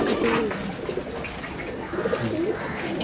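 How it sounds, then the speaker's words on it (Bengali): Several pigeons coo in low, throaty bursts, close by, over a steady murmur of crowd noise at a village market. "এই যে কবুতরগুলো দেখছি আমরা এখানে অনেকগুলি কবুতর আছে"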